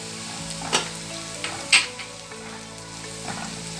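Raisins frying in a pan of bread upma, a soft steady sizzle with a few sharp crackles and pops, faint and close, no voices.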